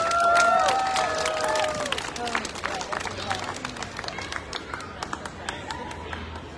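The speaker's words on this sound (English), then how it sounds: "Let's give a round of applause" An audience at an anniversary celebration for a legal services outreach center gives a round of applause, with dense, rapid clapping and some cheering, starting loud and easing slightly, with faint crowd murmur and a brief voice early on.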